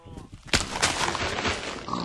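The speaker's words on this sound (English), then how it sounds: "Pig." Minecraft pig oinking with a sharp grunt onset followed by short noisy grunts, heard close and fairly loud in a game session, with players chatting over it.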